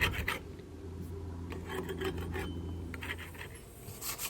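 A boat hull is sanded by hand with 80 grit sandpaper. Close, rough rasping strokes repeat steadily with a scratchy rhythm and no voices.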